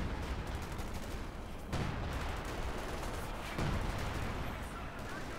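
Machine gun fire in a Company of Heroes 2 multiplayer battle, a steady rattle of automatic bursts with louder volleys about every two seconds, under distant battle noise.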